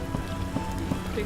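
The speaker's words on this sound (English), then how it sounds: "It's raining in the game." Rain patters steadily in The Witcher 1 Enhanced Edition, a soft continuous hiss with faint droplet taps and a few hoof-like clops, brief and fairly quiet.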